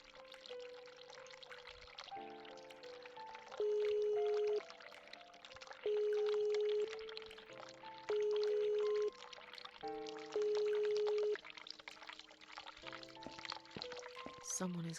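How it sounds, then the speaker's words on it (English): Cold water running from a tap in a bathroom in The Cat Lady video game, a steady pouring stream under a slow, tonal music score that plays throughout. "Oh, cold water, see what it does."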